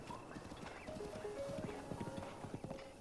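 Rhythmic clip-clop of a horse's hooves from The Legend of Zelda: Breath of the Wild, with a brief whinny, over quiet tonal game music at moderate loudness.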